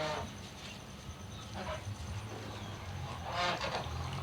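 Domestic ducks in a waterlogged village yard give a few honking quacks at moderate distance over a soft outdoor background, with no talking.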